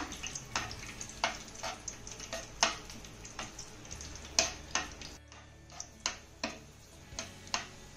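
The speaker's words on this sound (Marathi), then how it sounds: "त्यानंतर 2 चमचे बेदाणे यामध्ये घालायचे आहेत. हे देखील तुपामध्ये आपण चांगले तळून घेऊया." Two spoons of raisins fry in ghee for a poha halwa: a quiet hiss broken by sharp, irregular crackles and pops every half second or so.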